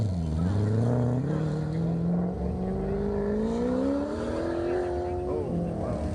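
A race car drifting at an autocross event, engine note climbing steadily as it accelerates through a turn, loud and fairly close, with voices talking over it.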